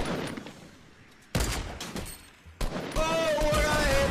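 Rapid gunfire in an online shooter game, with sharp bursts of shots, a short lull and then sustained firing mixed with in-game effects, all fairly loud.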